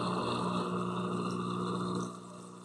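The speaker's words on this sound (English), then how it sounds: "Anybody else's washer just like do its own thing?" Washing machine churning with water, a steady loud drone and swish that drops slightly near the end, with no talking.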